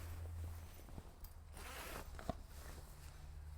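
A zipper draws along a tent awning wall panel in a faint, close, raspy run lasting a couple of seconds, with light rustling and a small click, no voices.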